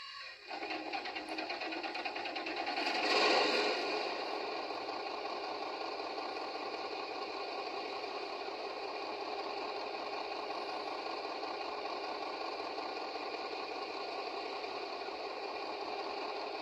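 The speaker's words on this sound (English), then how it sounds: "It brings on motor sounds." Onboard sound of a Piko HO Krauss Maffei ML4000 diesel-hydraulic model locomotive under DCC: a brief start-up swell, then a steady, even engine hum that holds at moderate loudness throughout, with no voices.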